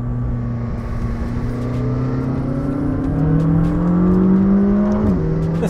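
A McLaren 600LT engine revs hard under acceleration, its bellowing note climbing steadily in pitch and growing louder over a few seconds, close up with no talking.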